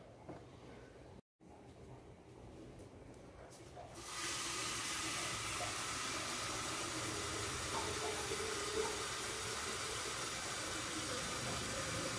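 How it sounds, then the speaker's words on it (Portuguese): Water heating in an electric kettle (thermos-style electric flask), a low steady hiss that jumps to a louder, broadband rushing roar partway through and then holds evenly, with a brief dropout near the start. "vamos esquentar nossa água aqui na nossa garrafa elétrica"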